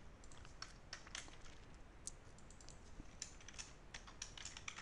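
Someone types on a computer keyboard during a web programming lesson, a steady run of quiet, close key clicks with a few sharper taps, with no voices.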